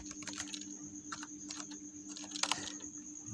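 Keys tapped on a computer keyboard in short, quiet bursts of a few strokes each, close by over a faint steady hum; no talking.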